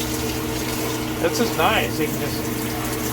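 High pressure 5 mode shower head in an RV spraying water, a steady hiss of spray under a low pump hum while a person talks briefly over it.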